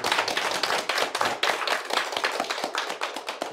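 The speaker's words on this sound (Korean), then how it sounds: "다시 한번 큰 박수 부탁드립니다" Audience clapping at the close of a roughly two-hour science lecture on space and space travel at a small community science gathering, a steady dense patter of many hands that continues evenly throughout, with no talking over it.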